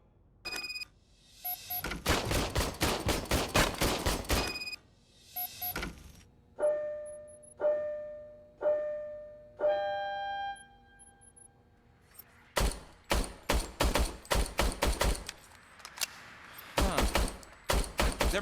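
In the Robocop Rogue City game, an old service gun fires in rapid bursts of sharp, ringing metallic shots, followed by slower single shots with tonal echoes and then more rapid volleys, loud and close.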